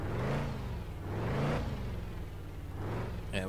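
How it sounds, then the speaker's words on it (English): A truck engine revving slowly while climbing a mountain road in Truck & Logistics Simulator, a steady mid-pitched drone that rises and falls in smooth waves, loud and close. "I'm just revving slowly"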